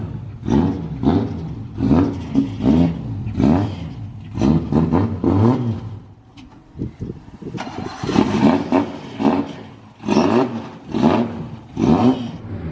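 A car engine being tested revs in repeated bursts, rising and dropping several times with short pauses between, fairly close and loud with no talk over it.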